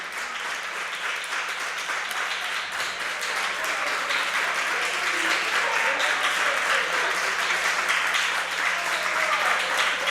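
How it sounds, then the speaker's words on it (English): A wrestling crowd at an indoor championship match claps in a sustained, dense wash of applause, steady and loud for ten seconds, with faint voices mixed in underneath. "I just hear a whole lot of clapping."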